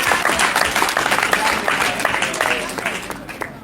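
Loud audience applause for youth cricket winners at a cricket academy awards event, steady dense clapping throughout with crowd murmur underneath.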